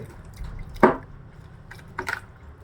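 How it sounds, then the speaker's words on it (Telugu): A mobile phone in a rain cover is dipped into water, making two brief, soft splashes about a second apart against a quiet background. "ఇదండి సెల్లు మొత్తం ముంచేసా నీళ్ళలో"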